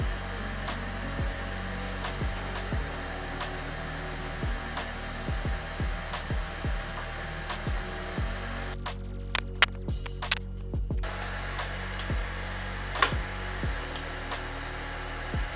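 A home-converted CNC laser cuts 3 mm MDF and 5 mm plywood amid a steady fan-like hum, with soft irregular ticks and clicks from the moving gantry and a brief buzzy burst partway through.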